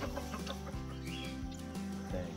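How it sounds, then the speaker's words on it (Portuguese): A chicken clucks inside a house under renovation, a few soft short clucks heard faintly beneath a low steady hum. "acho que é uma galinha em cima da teia"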